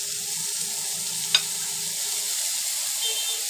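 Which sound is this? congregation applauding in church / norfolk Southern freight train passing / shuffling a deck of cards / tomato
tomato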